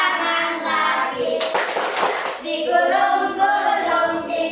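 Children clap their hands during an action song in a primary school Islamic religious education lesson, a dense burst of clapping lasting about a second, set amid close singing voices of children and a teacher.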